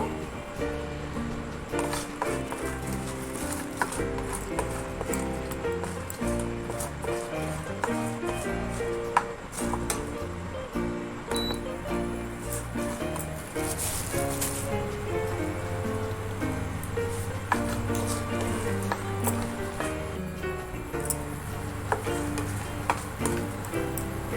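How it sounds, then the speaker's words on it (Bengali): Peanuts fry in oil in a pan while a steady dense sizzle and crackle runs throughout, close and fairly loud, with a fine popping texture. "বাদাম দিয়ে দিচ্ছি, বাদামটা একটু ভেজে নেব।"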